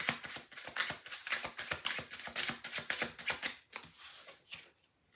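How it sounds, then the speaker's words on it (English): A tarot card deck being shuffled, rapid papery riffles and flicks in a steady close run that thins out toward the end, with no voices. "I wanted to shuffle through the back of the deck too."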